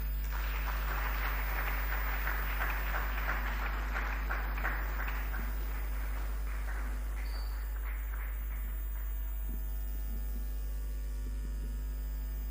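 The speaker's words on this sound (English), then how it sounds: "Please give him another round of applause." Audience applause at a Ghanaian government nation-building briefing, faint and distant over a steady electrical hum, clapping for the first several seconds and then fading away.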